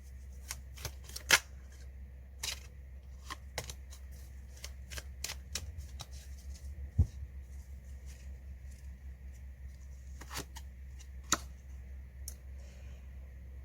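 Tarot cards shuffled for an advice card reading: a quiet, steady run of soft riffling with sharp card clicks and flicks scattered through, close and alone with no talking.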